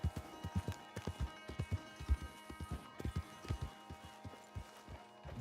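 Horse hooves in a video game clip-clop in a quick, steady galloping rhythm, close and fairly loud, with a soft game ambience underneath and no talk over them.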